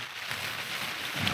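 Steady rain patters on a camping tent in wet weather, a continuous close hiss of drops with no talk.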